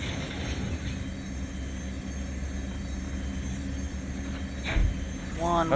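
An intermodal freight train rolls past in the Run8 railroad game, a low, steady rumble with faint droning tones, growing slightly louder toward the end.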